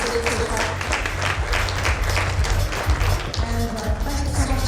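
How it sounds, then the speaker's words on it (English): Audience applause at a corporate brand awards event, dense sustained clapping from a crowd, steady and fairly loud throughout. "Can we have a louder round of applause?"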